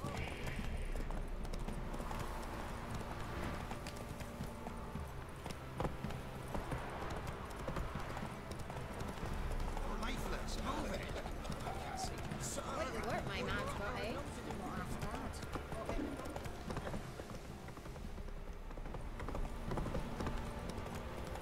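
Roach, the horse in the video game The Witcher 3: Wild Hunt, gallops with rhythmic clip-clop hoofbeats and an occasional whinny. Someone talks over the hooves throughout.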